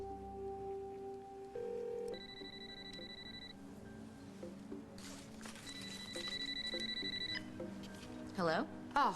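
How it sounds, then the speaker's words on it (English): An old-fashioned telephone bell rings in two bursts indoors in a television soap opera scene, moderately loud amid quiet background tones, with brief voices near the end. "Oh, answer the phone, you stupid twit."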